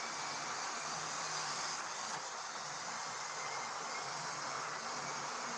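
A Pullman Express passenger train of mostly Pullman cars, eight cars long, rolls past as a steady, broad rushing roar that holds at an even level throughout with no voices.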